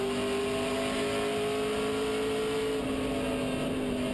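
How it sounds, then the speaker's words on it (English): Heavy stock car engine on an oval track easing off the throttle, a steady droning roar whose pitch drops slightly near the end, heard at a distance with no talk. "You can hear Plur let off the gas"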